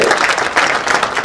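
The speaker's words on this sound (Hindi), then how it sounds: "तालियां बजाएं इनके लिए" A roomful of people at a product training session applaud a participant, the claps coming in a quick, uneven patter that holds steady for a moment, with no one speaking over it.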